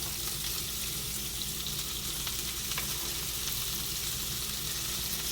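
Chopped cabbage sizzles in a hot pan with a small green chili for Indian-style cabbage bhaji: a steady, close hiss of frying that stays even throughout, with no talking.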